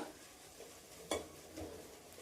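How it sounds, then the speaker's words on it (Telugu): Bitter gourd and tomato curry softening in oil in a pan: a quiet, steady low sizzle with a sharp utensil clink near the middle and soft stirring scrapes. "ఇది ఆయిల్లోనే మగ్గనిద్దామండి కాసేపు."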